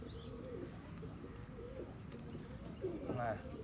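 Pigeons in a Punjabi pigeon-keeping loft give soft, low cooing calls throughout, rising to a louder coo near the end, with people talking over them.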